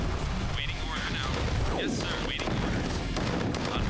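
Tank cannon fire and explosions from a mammoth tank battle in the strategy game Command & Conquer: Tiberian Sun, a dense, continuous barrage of booms and blasts under game music.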